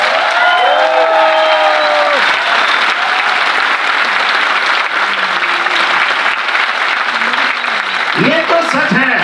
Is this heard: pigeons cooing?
no